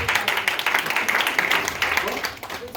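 A church congregation applauds during a praise and worship service, with rhythmic clapping sustained over a crowd murmur and voices throughout.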